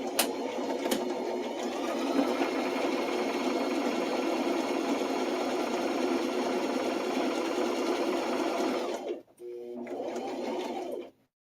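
A sewing machine stitches a bunny backpack in one long continuous run of steady mechanical whirring, then pauses briefly and starts a short second burst.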